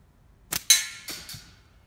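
A flat-band slingshot fires at a can outdoors, producing a sharp snap of the band, then a bright metallic crack of impact that rings briefly, followed by two fainter clinks as the can tumbles, all close with no talking.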